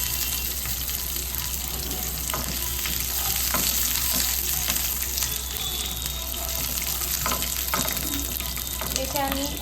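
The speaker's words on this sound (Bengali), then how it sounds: "বাদামটা একটু ফ্রাই হোক।" Raw peanuts frying in a pan with sugar, a steady broadband sizzle throughout with light scraping and occasional clinks, close and moderately loud, no talking.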